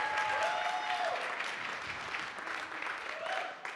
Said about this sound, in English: Once again, a big round of applause for all of our judges